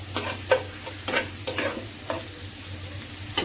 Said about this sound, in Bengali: এগুলো দিয়ে মাছের ডিমটা একটু ভাজা নিলাম